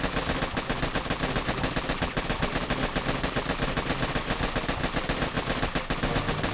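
Dense, continuous rapid gunfire from the mobile strategy game Boom Beach, loud and sustained throughout with overlapping bursts and battle effects, no speech.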